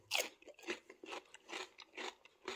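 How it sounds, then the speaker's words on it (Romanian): Crisp bites and chewing of a crunchy fresh cucumber, heard up close as a steady series of about six sharp crunches at roughly half-second intervals, with no talk. "Ia uitați cum sună castravetele ăsta."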